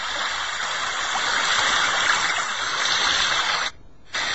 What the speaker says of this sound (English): We can listen to a stream.